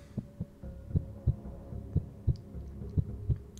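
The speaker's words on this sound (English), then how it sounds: "I'm just listening to the sound of my own heartbeat at this point" Heartbeat sound effect from the Paper Lily video game, about eight heavy low thumps in a steady lub-dub pulse, fairly loud over a faint hum with no talking.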